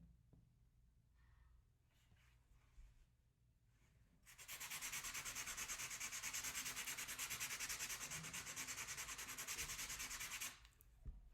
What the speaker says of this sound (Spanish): Esta es la lija que yo ocupo primero para quitar la textura que sea más fuerte cuando acabe de grabar.